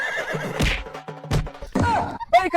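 A horse whinnies loudly and close by in repeated bursts, with a sustained neigh ending in a high, wavering fall.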